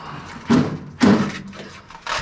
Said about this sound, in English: Door opens plenty for what we need to do.